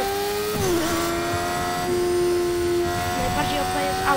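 A car engine in the Fortnite battle royale game, a steady revving drone that shifts pitch as it accelerates, with a tonal whine running underneath throughout.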